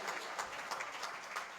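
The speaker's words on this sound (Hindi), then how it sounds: "तालियां बजाते रहिए।" Audience clapping at a poetry gathering (kavi sammelan), soft and distant, a light patter of many hands with slight rhythmic pulses throughout.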